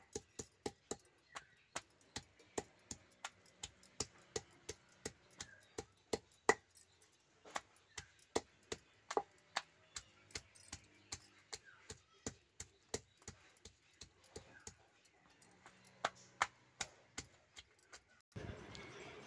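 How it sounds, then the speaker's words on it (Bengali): Repeated pounding of pointed gourds (potol) being crushed one by one on a stone grinding slab (shil) in a home kitchen, a steady series of sharp, close knocks at roughly one per second over a quiet background. "এইভাবে পটলগুলো আমি একটা একটা করে সব পটলগুলোই থেতো করে নেব শিলে।"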